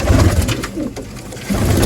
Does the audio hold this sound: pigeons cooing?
yes